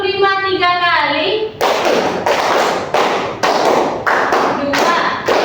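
A classroom of pupils claps in a patterned routine after a teacher's spoken cue, sharp loud bursts of many hands in a rhythmic sequence of groups, close and dense.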